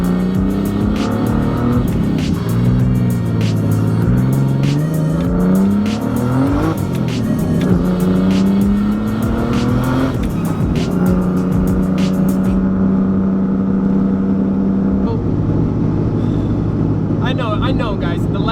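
A car with a welded differential driven on the street, engine revving and rising and falling through gears, loud and close, with brief tire chirps and no talk over it.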